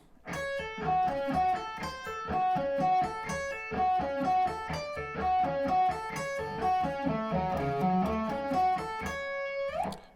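Fast arpeggiated sweep-picking runs on an electric guitar sweep up and down in repeating patterns, clean and close, played continuously without talk.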